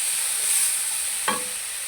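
Chopped tomatoes hit hot oil in a frying pan while onions cook for a desi-style bhindi sabzi, giving a steady bright sizzle with one short scraping stir partway through.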